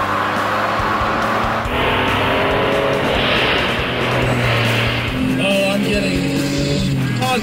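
A DeLorean races a minivan, the engine droning loudly and steadily with rising and shifting tones, a tire squeal or skid breaking through near the end, while a voice talks over the engine noise.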